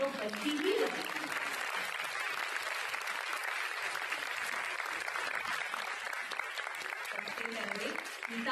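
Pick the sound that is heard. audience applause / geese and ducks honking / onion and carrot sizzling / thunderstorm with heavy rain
audience applause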